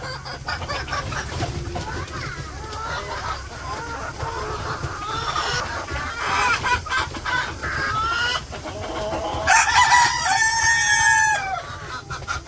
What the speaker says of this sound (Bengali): মোরগ এখন খালি সারা দিন রাত বাবারে চিল্লাচিল্লি করে